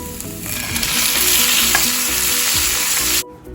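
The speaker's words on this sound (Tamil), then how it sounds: "தக்காளி கொஞ்சம் சாஃப்ட் ஆகிற அளவுக்கு வதங்கட்டும்" Cashews and tomatoes sauté in a pan for a vegetable korma, a steady loud sizzle with occasional stirring scrapes that cuts off abruptly near the end.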